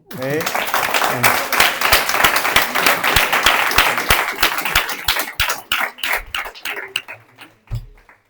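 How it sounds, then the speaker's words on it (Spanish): A live audience claps at a talk on the economic program of the Partido Nacional Libertario: dense, loud applause that holds steady for several seconds, then thins into scattered individual claps before dying out. "Pues un fuerte aplauso."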